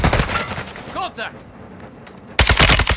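Bursts of gunfire in an online shooter video game, a loud rapid volley at the start, a quieter stretch with faint background game sounds, then another dense loud burst of shots near the end.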